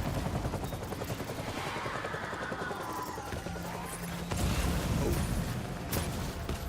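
Gunfire from a battle between holographic soldiers rattles in the video game Death Stranding, with scattered bursts over a steady rumble and a louder stretch near the end.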